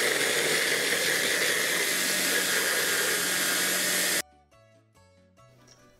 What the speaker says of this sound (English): Let's get the blitzing of the revithia happening